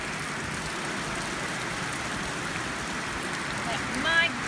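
Heavy rain falls steadily during a night thunderstorm outside a barn, a dense even hiss with no breaks, fairly faint and constant, with a short louder bump near the end.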